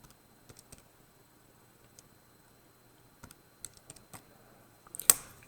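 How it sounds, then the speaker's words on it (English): Calculator buttons pressed close up during trigonometry work, a sparse run of light plastic clicks and taps with irregular gaps, ending in a slightly louder click, no voice. "take cos 13 and type it into our calculator."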